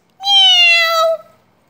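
A single cat meow in a phonics lesson, clear and close, one smooth sustained call of about a second with a falling pitch, alone against silence.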